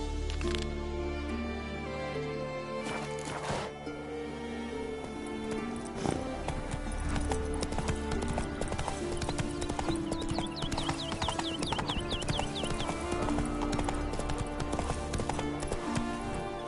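Steady clip-clop of a horse's hooves galloping in the open-world game The Witcher 3 on PS5, a continuous rhythmic beat under music, with a brief spoken line.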